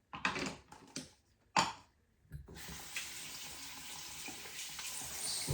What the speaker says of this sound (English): And wash my hand.